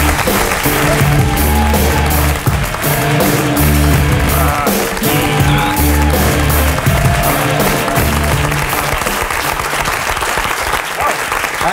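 Studio audience on a French television talk show breaking into sustained, loud applause, dense clapping that carries on steadily throughout with a few scattered cheers.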